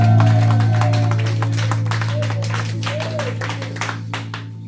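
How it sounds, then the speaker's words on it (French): A church congregation applauds with brisk, steady clapping that slowly thins and fades, over a sustained low organ-like drone. "Est-ce qu'on peut acclamer pour Saint-Esprit de Dieu?"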